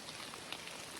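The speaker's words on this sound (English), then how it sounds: "it's very invigorating in a sense to walk in the rain" Steady rain falls around a hiker on a foothills trail, a dense, even hiss with faint droplet patter and no voices, close and continuous throughout.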